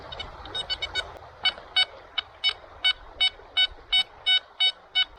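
A Nokta Gold Finder 2000 metal detector, set to non-ferrous mode, gives a steady series of sharp, evenly spaced electronic beeps on a small gold target. The beeps are close and clear over a faint hiss.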